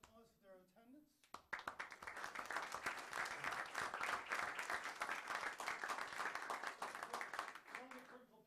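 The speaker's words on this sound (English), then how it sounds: "can we all please give our students a round of applause for their attendance?" Board of education meeting audience claps for students: speech at first, then a burst of applause that swells and holds for several seconds before a voice resumes.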